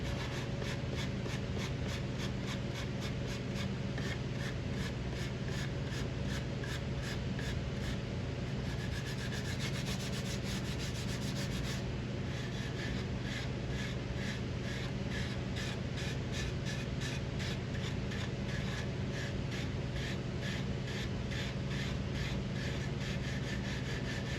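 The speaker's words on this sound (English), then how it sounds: "I'm going to get out the Dremel and open it up in there a little bit." Dremel rotary tool grinding to widen a narrow gap in a wooden shotgun butt stock, a steady continuous abrasive whir with rhythmic rasping strokes, close and unbroken throughout without talk.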